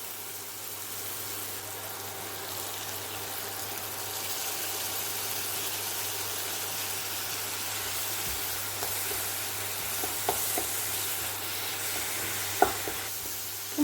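Onion paste goes into a pan of salted, softened vegetables and fries with a steady, close sizzle, a few soft clicks of a spatula near the end.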